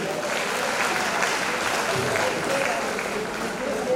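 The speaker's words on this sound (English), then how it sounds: "A round of applause for you." A crowd at an International Women's Day event claps for the chair of a women's forum; loud, close, continuous applause fills the whole moment, with faint murmuring mixed in.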